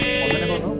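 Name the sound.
sheep bleating in Minecraft video game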